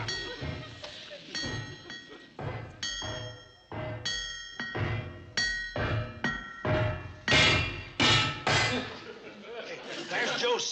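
Metal hammering on an old steam locomotive, the Cannonball, rings out in a steady series of loud clanging blows with a bright metallic ring, repeated roughly every half second to second over about ten seconds.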